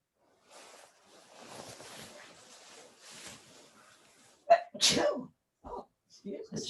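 A person sneezes sharply during an indoor yoga class, after a stretch of quiet instruction; the sneeze is loud and close, followed by a couple of short bursts of voice.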